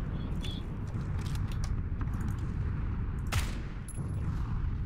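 Gunfire in PlayerUnknown's Battlegrounds, a dense burst of rapid shots over steady game noise, with a sharp louder crack near the middle of the clip.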